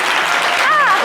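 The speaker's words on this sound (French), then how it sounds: "Applaudissez-la bien fort, s'il vous plaît" Loud, dense clapping fills a French-language TV variety show studio as the audience applauds a guest, and a voice cries out briefly over the applause near the end.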